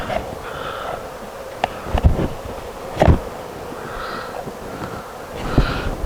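A newly hived swarm of honeybees hums faintly against a noisy background, joined by intermittent knocks and thumps, with no talking.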